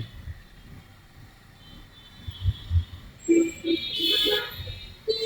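A vehicle horn honks on a road, heard from a motorcycle while riding: a few short, fairly near toots come in bursts midway through, over steady road and engine rumble.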